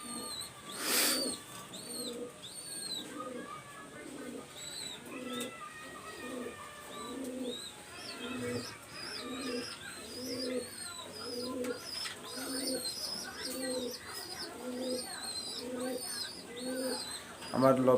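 Pigeons in a loft coo in a steady, repeating rhythm of soft, low, throaty calls close by, with a few higher chirps scattered over the top.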